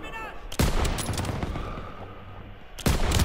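Sniper rifle fire in the Call of Duty WW2 video game, two sharp booming shots at the start and end with a rumbling battlefield din and faint background voices between them.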